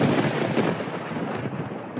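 A thunder sound effect in an energy drink commercial: a loud, sustained rolling rumble that fills the whole stretch evenly, with no voices over it.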